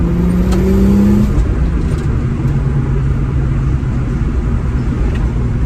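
A car engine fitted with brand-new OEM injectors runs with a loud, close, continuous rumble, a brief whine at the start settling into a steady throaty drone, with no talking.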